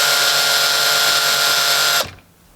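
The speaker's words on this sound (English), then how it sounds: "I plan on making a little dot with the" A power drill fitted with a 5/16 bit whines loudly and steadily while making a pilot mark on a skoolie roof solar panel mount, then cuts off abruptly, leaving near quiet.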